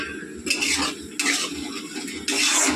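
Onions frying in a pan at home and stirred with a metal utensil: three bursts of scraping and sizzling, each a second or so long, close and fairly loud, with no talking.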